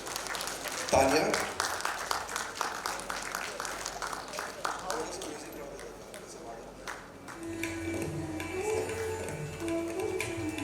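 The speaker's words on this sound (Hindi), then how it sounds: "तालियां।" Audience applause at a music competition grand finale, loud clapping that gradually thins out, followed by quieter background sound with music and voices.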